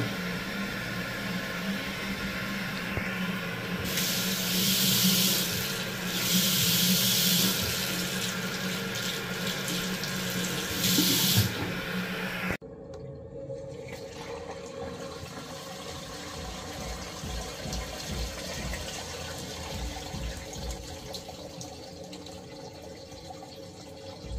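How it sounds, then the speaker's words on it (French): Water rushes and gurgles through a freshly unclogged toilet drain stack in a cellar, a continuous close flow with louder surges in the first half, then a steadier, duller drainage sound. "Là, on tire la poche d'eau, résultat positif."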